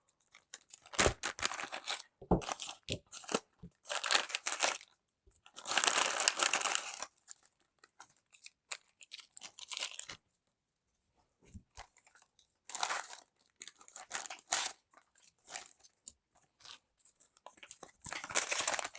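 Plastic packaging of a 4-wheel-drive acrylic robot chassis kit with motors being torn open and unwrapped, with loud crinkling and crunching in repeated bursts separated by brief pauses, and no talking.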